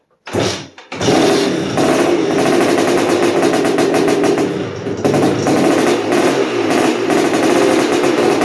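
A 1986 Honda TRX250R two-stroke ATV engine coughs, catches and starts, then holds a loud, close, rattling high idle with blips of revving throughout.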